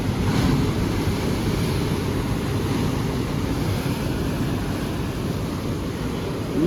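Large ocean waves crash onto a beach in a continuous, loud roar of surf with wind buffeting the microphone, and no voices are heard.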